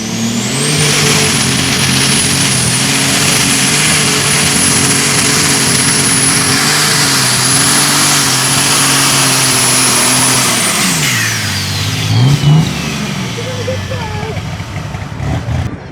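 A lightweight super stock pulling tractor named Beauty and the Beast, driven at a truck and tractor pull, roars loudly and steadily at high revs for about ten seconds before the engine note drops and winds down.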